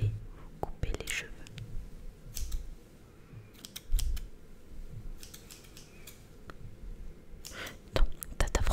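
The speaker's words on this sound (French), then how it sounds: "je vais vous couper les cheveux" Scissors snip near the microphone during an ASMR haircut roleplay, giving crisp, irregular clicks and cuts with soft whispering between them.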